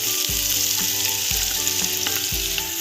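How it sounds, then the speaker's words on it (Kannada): Onions fry in hot oil with a bay leaf for dhaba-style paneer masala, a loud, steady close sizzle broken by three dull stirring thumps. "ಚೆನ್ನಾಗಿ ಗೋಲ್ಡನ್ ಬ್ರೌನ್ ಆಗಬೇಕು, ಅಲ್ಲಿ ತನಕ ಫ್ರೈ ಮಾಡ್ಕೊಳ್ಳೋಣ"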